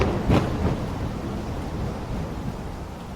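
A thunderclap with rain in a Spanish-language audio drama, a deep rolling rumble that swells early and then fades into a steady wash of rain and low noise, with no voices.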